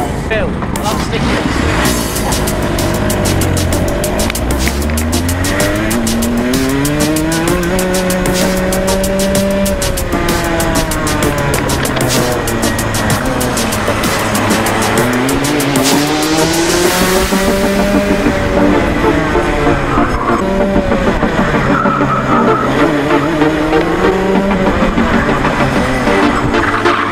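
Racing karts drive on a track in a loud, continuous onboard drone, the engine pitch sweeping up and down through acceleration and braking, with occasional tyre squeal.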